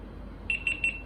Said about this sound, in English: It will make a beep sound